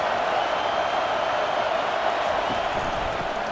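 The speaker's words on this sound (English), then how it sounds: "This crowd bringing an ear-splitting welcome to their visitors." A packed college football stadium roars for Rice at Texas A&M, a dense, unbroken wall of crowd noise that stays loud and steady throughout.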